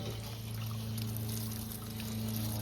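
Water from a wand sprays and pours inside an RV water heater tank, a faint, steady rinsing splash under a low continuous hum.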